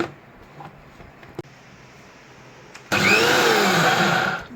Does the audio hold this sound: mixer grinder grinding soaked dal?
yes